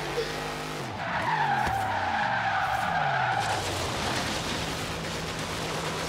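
A Dodge Charger R/T in Forza Horizon 3 slides under the handbrake, tires screeching loudly for a few seconds over the revving engine, which then settles into a lower drone.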